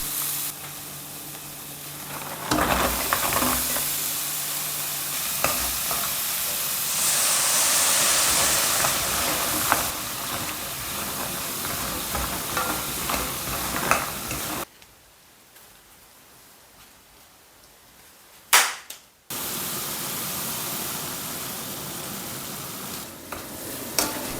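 Peppers stir-frying in mala sauce over high heat, a loud steady sizzle and hiss with scraping stirs. It drops to near silence midway, then a sharp clatter, and the frying sizzle returns.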